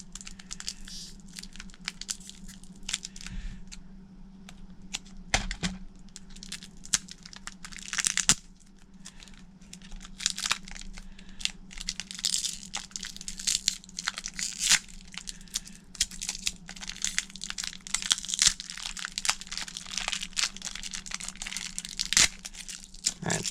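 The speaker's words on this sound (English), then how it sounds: "So let's see if we can get the tape off real quick." Tape is peeled and crinkled off Beyblade Burst booster packaging, producing close, continuous crackling, ripping and rustling with frequent sharp tearing bursts and no talk.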